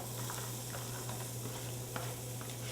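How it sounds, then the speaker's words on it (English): Chopped onions hit a hot roux for jambalaya in a Louisiana kitchen, giving a steady close sizzle with faint stirring scrapes and a low constant hum beneath, no voices. "This is the roux. This is what's going to give the jambalaya a really good flavor. Now we're going to add onions."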